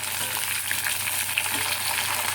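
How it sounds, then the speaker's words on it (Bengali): Steady sizzling of vegetables frying in a hot pan over low-to-medium heat, a constant crackle with occasional small pops, no voices. "আঁচটা লো টু মিডিয়াম রাখছি আর একটা একটা করে সবজি দিয়ে আমি ভেজে নিচ্ছি"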